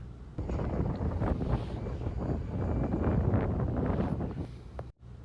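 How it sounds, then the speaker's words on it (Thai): Strong wind sweeps across a dry, cold field awaiting the rice planting season, roaring steadily and buffeting the microphone with a dense rumble throughout. "ถึงแม้ว่าจะมีลมพัดแรงบ้างเบาบ้าง"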